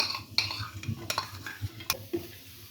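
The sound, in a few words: chopped garlic stirred and frying in cooking oil in pan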